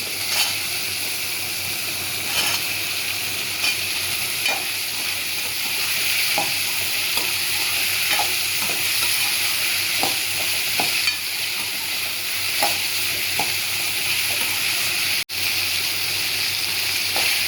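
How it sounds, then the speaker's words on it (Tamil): Drumsticks sauté with tomatoes and shallots in a pan, giving a steady close sizzle broken by regular scraping stirs of a spoon, with one brief dropout near the end. "முருங்கைக்காய் கொஞ்சம் வதக்கிட்டு மாங்காய் போட்டுக்கலாம்"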